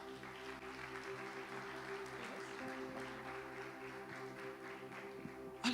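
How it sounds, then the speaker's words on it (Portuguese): Soft, diffuse clapping from a church congregation runs steadily beneath a sustained music bed, the applause fairly quiet and even throughout. "Você pode aplaudir o Senhor por isso?"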